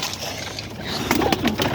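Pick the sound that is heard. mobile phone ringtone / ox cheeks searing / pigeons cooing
pigeons cooing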